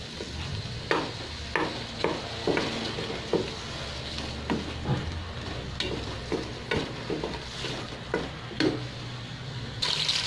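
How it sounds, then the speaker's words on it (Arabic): Onion sizzling and frying in a soup pot, with a steady close crackle of hot oil broken by regular stirring scrapes of a spoon about every second. "فهنا كيف كتشوفوا بدات تشحر ليا البصيله"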